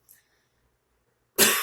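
A single loud, harsh cough bursts out near the end from someone with a plugged-up, congested chest, following a brief faint throat sound at the start and a long near-silent stretch.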